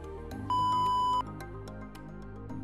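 A single steady electronic beep from a wheelchair joystick module, clear and sustained for under a second, against a quiet hum of background noise.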